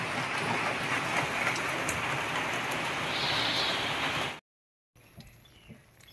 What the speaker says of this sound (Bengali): এখন আবার দেখো কি পরিমাণে বৃষ্টি নেমেছে